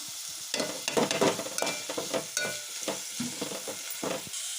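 Onions and curry leaves frying in a pan with a pinch of salt, making a close, crackling sizzle broken by repeated scraping strokes of a spatula stirring the pan.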